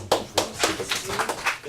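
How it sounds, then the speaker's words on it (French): At a high school class event, a small audience claps at a brisk, regular rhythm in a handful of distinct, fairly close claps over a couple of seconds, with faint background murmur. "On les applaudit quand même."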